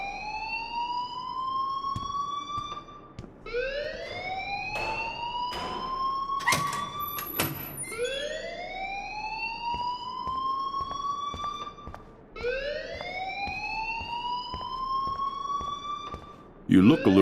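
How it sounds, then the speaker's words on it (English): A school fire alarm in the game Life is Strange wails in rising, repeating siren sweeps about every four seconds, loud and continuous throughout, with brief sharp clicks and a short burst of voices near the end. "please turn off that alarm since that's your job."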